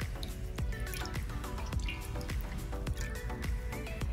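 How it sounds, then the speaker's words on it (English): Water dripping and trickling from a synthetic lace front wig as it is gently squeezed by hand, with a steady stream of wet drips and small splashes at close range. "You want to gently squeeze the water out."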